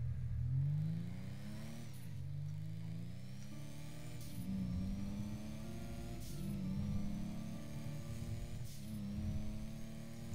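A turbocharged car engine in the GTA V video game revs repeatedly, each rise in pitch cut off by a gear change about every two seconds, giving a steady mid-level drone with no talk over it.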